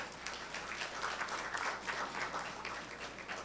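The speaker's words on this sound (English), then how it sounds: "A round of applause to the Center for University Research," Applause for the Center for University Research at the 7th Research Congress at the University of Makati, a faint, distant-sounding patter of many hands that holds steady for the whole stretch without any voices.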